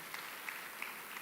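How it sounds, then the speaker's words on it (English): Soft, distant applause from a summit audience greeting the Zimbabwean president as he walks toward the stage, a steady low patter of many hands with no talk over it. "We can give him a warm clap as he's approaching the stage."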